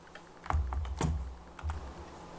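A few computer keyboard key presses for copy and delete shortcuts, about three soft close clicks spaced roughly half a second apart in a quiet room.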